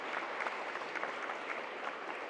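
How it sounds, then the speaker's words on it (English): Audience applause for the basketball team at a college sports awards ceremony, a crowd's brisk even clapping that sounds soft and somewhat distant in the hall. "Let's clap it up for the basketball team again."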